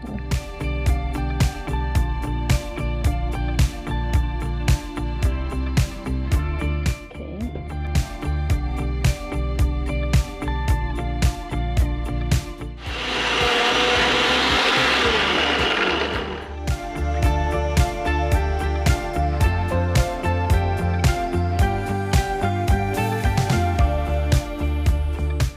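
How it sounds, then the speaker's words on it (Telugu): Mixer grinder coarsely grinding amaranth leaf chutney, a loud, steady motor whirr with a dense rattling texture of leaves and spices churning in the jar, broken by a brief pause partway through before grinding resumes. "సో మనం ఇప్పుడు దీన్ని కొంచెం కచ్చా పక్కగానే గ్రైండ్ చేయాలి."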